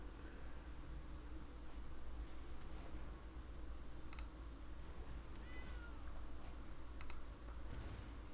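A cat meow sound effect plays in the MTG Arena digital card game, a faint, brief mew amid quiet mouse clicks and soft keyboard taps.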